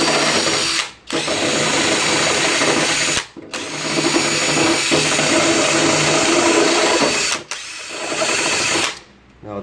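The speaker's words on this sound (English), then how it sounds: "Now I'm going to take the carbide on the end of the drill here and I'm going to clean this hole up" A power drill with a carbide bit cleans up a hole in very thin aluminum for a trunk shave, whirring loudly and steadily in long runs with brief stops between them.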